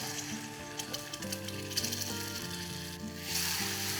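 Warm cream hits caramelized sugar in a pan, giving a bubbling sizzle under faint background music, with the hiss surging louder near the end.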